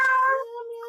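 A pet cat gives a single close, clear meow that trails into a thin sustained tone lasting under a second, with no other sound around it.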